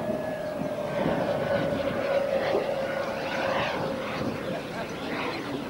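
A steady roar from a jet overhead, with a sustained whine and a broad rushing rumble, continuous and fairly loud throughout.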